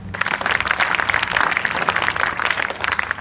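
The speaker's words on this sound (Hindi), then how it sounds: "आओ ताली बजाओ इनके लिए" A crowd claps in steady, dense applause, moderately loud and continuous for a few seconds.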